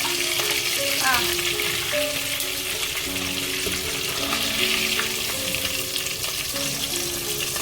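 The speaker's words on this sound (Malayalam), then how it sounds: "അടുത്ത ചിക്കൻ നമുക്കിട്ട് മൊരിച്ചെടുക്കാം" Chicken pieces deep-frying in sunflower oil, a dense steady sizzle and crackle running throughout with occasional clinks of a utensil stirring, fairly close and with no talking.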